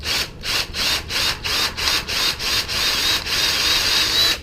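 A drill bores into the wood of a gate near a knot, grinding in regular rasping strokes about three per second, close and steady with no voices.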